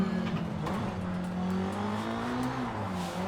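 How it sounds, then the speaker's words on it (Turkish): A race car engine with turbo drones steadily with a rising and falling pitch in the video game Forza Horizon 5, loud and close, continuous throughout with no talking. "Turbonun sesi de ne güzel geliyor değil mi?"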